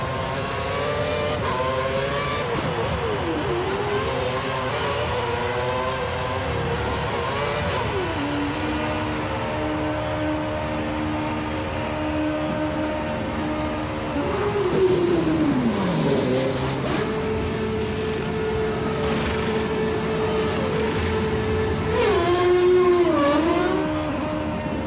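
A Lotus Formula 1 car in the F1 2013 game at Singapore, its high-pitched engine screaming continuously, rising and falling through gear shifts and accelerations, loud and close throughout.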